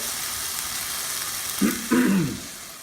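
Food for a Blue Apron dish frying in a hot pan, a constant close sizzle with a brief louder hiss and crackle burst as something is stirred or added near the end.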